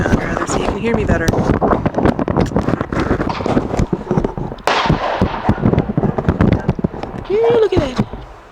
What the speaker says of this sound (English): But, there's some fireworks.